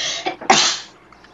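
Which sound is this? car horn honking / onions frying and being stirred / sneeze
sneeze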